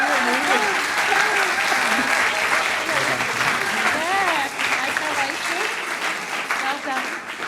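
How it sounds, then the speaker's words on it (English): An audience applauds the pro and con teams after a live debate, sustained loud clapping that fades slightly near the end, with people talking and calling out over it. "can we please have a round of applause for your pro and con teams for tonight?"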